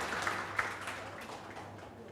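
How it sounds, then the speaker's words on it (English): Audience applause at a student accommodation summit panel in Sunway City, Kuala Lumpur, a soft steady patter of many hands clapping in a room, fairly faint and continuous for a couple of seconds. "Let's give a round of applause to T. Ching Yin and our panel members for their enlightening discussion."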